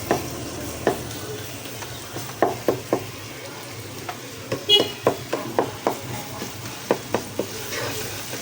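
Masala for a spicy egg recipe frying and being stirred in a pan over medium heat, with a steady sizzle broken by repeated clinking strokes of the spoon at close range.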